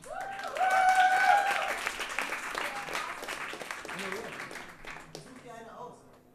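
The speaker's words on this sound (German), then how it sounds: "Großen Applaus" Audience applause at a music session performance, a short burst of clapping that swells early and then thins out, heard under musical tones and talking voices.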